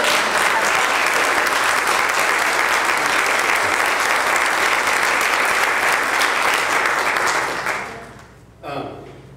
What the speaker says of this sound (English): And I'm going to clap for them again